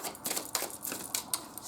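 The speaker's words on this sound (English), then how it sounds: "just give them a quick shuffle here as we go along" A deck of tarot cards being shuffled by hand: soft, papery riffling and flicking in quick irregular bursts, close and fairly quiet, with no speech.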